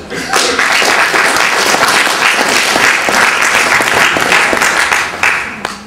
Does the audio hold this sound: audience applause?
yes